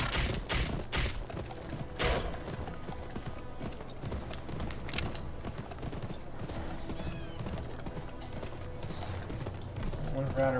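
Horse hooves galloping in the western video game Gun, a steady rapid clip-clop running under game music, effects and a talking voice, with a brief whinny possible amid the busy mix.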